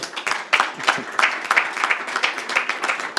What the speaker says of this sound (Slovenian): zaslužen aplavz